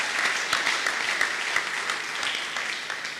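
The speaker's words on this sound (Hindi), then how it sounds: "तो अब ज़ोर से ताली बजाइएगा ताकि माहौल को खुशगवार बना ले।" An audience at a comic mushaira poetry gathering applauds steadily and loudly throughout, a dense crowd of hand claps with sharper individual claps popping out.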